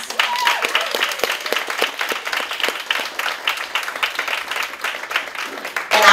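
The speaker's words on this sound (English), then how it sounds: "Please could you give our anonymous donor a huge round of applause" Audience applause fills the room at the Mrs Africa 2022 awards ceremony, a dense, steady round of clapping with sharp individual claps standing out near the mic, lasting throughout with no talk.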